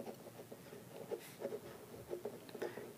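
Pen writing on paper while an economics problem is worked through, faint soft scratching strokes in short bursts, quiet and close.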